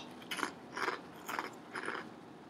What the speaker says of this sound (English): let me finish chewing first actually